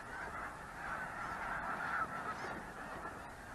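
A large flock of migrating geese honks continuously over wetlands, a dense and fairly distant chorus of overlapping calls with a steady hum beneath it.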